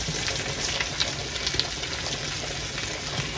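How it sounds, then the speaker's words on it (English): Onions and cabbage cooking over low heat in bacon grease produce a steady, moderate hiss and sizzle with light crackles and faint pops throughout, no speech over it. "to that bacon grease, we're going to add those onions and that cabbage"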